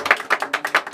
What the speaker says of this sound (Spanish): Bravo, ese aplauso.